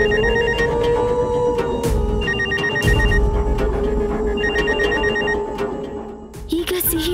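A telephone rings in a repeating pattern of bell-like trills, steady and fairly loud through most of the clip. A few other noises and a brief voice come in near the end.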